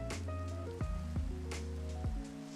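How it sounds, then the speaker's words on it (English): Rain falls in the Minecraft video game as a steady, soft patter, with scattered chiming tones and brief plucked notes layered over it, no talking. "because I want to get rid of this rain. Oh, I hate rain."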